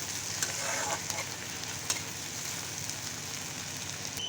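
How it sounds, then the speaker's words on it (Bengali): Sliced onions and two dried red chillies fry in a pan while a fish curry with pointed gourd is being cooked, giving a soft continuous sizzle with occasional light scrapes of stirring. "পেঁয়াজটা আমি ভেজে নেব আমি।"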